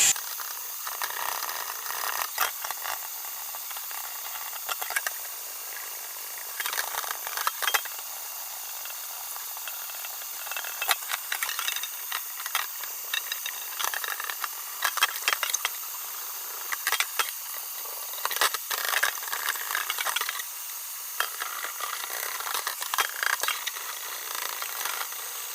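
Wet sanding of a car headlight with soapy water, a continuous raspy scrubbing hiss with uneven back-and-forth strokes, close and alone.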